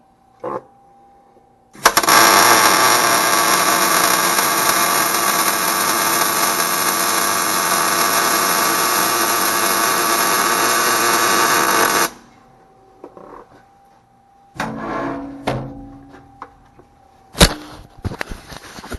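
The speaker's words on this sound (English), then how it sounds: "I'll go ahead and weld on it." Arc welding a pad weld bead on steel, a loud continuous crackling buzz lasting about ten seconds, followed by quieter clicks and a few short bursts of arc.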